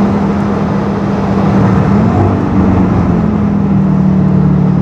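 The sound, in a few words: Audi RS3 engine revving and accelerating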